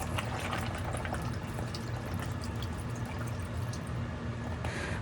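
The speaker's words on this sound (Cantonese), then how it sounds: "加雞湯啦" Chicken stock pours into an Instant Pot holding oxtail, red wine and canned tomatoes, a steady liquid gush and splash lasting several seconds with no talking.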